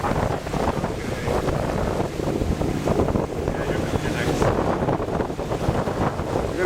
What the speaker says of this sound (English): We're going to get a big set of waves here.